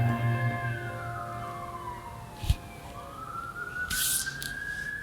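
An emergency siren wails in the distance in Alaska, its tone dipping and rising again, with a low engine hum and a few brief knocks nearby.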